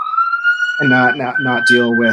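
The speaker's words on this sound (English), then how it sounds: "Who has the siren?" Police-style siren wailing steadily in the background of an indoor conversation, with a person speaking over it briefly.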